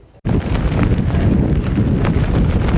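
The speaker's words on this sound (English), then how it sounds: "The wind has gone crazy here." Strong storm wind at Ocean City buffets the microphone in a loud, sustained roar that kicks in abruptly and rumbles on without a break.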